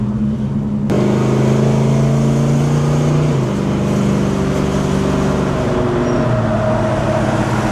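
A 1970 Chevelle with radial tires and modified suspension cruises with all windows down, its engine droning steadily and shifting pitch as it runs, with road and wind noise filling the cabin.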